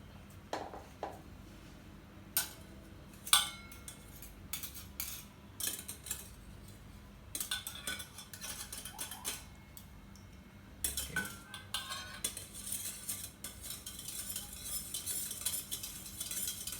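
Homemade yogurt mixture stirred with a spoon, giving repeated clinks and scrapes against the container in irregular bursts over a steady faint background hum.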